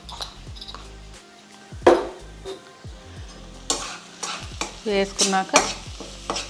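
Spice powder stirred into a hot pan with a metal spoon, giving sharp scrapes and clinks against the pan over a light sizzle. Brief speech is heard in between.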